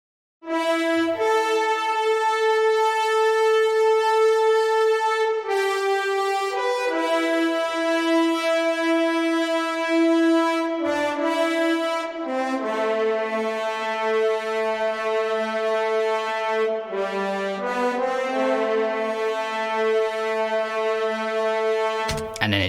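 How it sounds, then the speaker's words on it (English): A horn part from an Arturia Augmented Strings virtual instrument track plays a slow, sustained melody of long held tones, steady and prominent throughout, with no talking. "So that horn one sounds like this."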